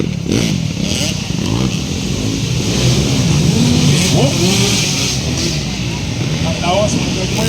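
Motorcycles rev loudly and continuously at a ladies' final race in Kinoguitan, Misamis Oriental, engines droning and surging close by as a voice talks over the roar throughout.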